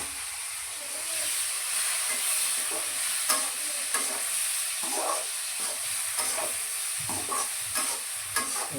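Potato and tomato go into hot masala in a kadhai for masala rice, with a continuous loud sizzle and frying hiss broken by scraping stirring strokes throughout.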